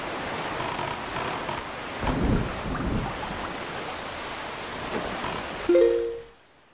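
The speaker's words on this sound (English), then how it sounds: "Okay, it's storming." Stormy weather in the video game The Legend of Zelda: The Wind Waker: steady rain and surf-like rushing with a rumbling thunder swell, then a short tonal game chime before the sound fades out.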